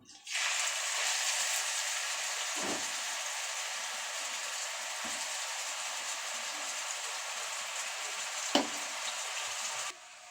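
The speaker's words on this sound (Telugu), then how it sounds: "ఇప్పుడు మనము తురిమి పెట్టుకున్న సొరకాయని ఇందులో యాడ్ చేసుకుందాం" Grated bottle gourd drops into hot ghee for halwa and sizzles loudly, a dense steady hiss that starts abruptly, carries on evenly with a few stirring scrapes, then stops near the end.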